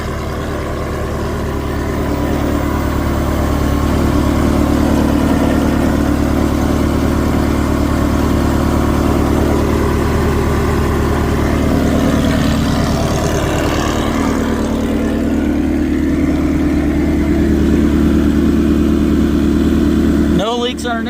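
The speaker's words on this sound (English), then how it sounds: "All right, got it outside, letting it idle for a little bit." A 2000 Ferrari 360 Challenge race car engine idles loudly and steadily outside, with a deep, throbbing rumble that holds for the whole stretch before a brief rev at the end.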